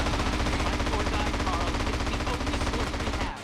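Dense, continuous automatic gunfire from a shootout in GTA: San Andreas, loud and rapid throughout before cutting off abruptly at the end.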